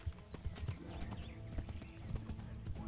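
In the Kingdom Come: Deliverance video game, a horse arrives after a whistle, with steady, rhythmic clip-clop hoofbeats on hard ground and a brief whinny in the mix.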